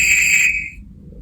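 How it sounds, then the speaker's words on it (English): Guard's whistle sound effect from a Hornby HM7000 model railway sound decoder: one shrill, steady whistle blast lasting under a second, loud and close, then cut off into near silence. "Guard's whistle."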